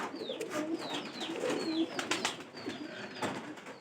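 Pigeons kept in summer heat cooing, several soft repeated low coos overlapping with faint chirps, fairly quiet and close, no talk.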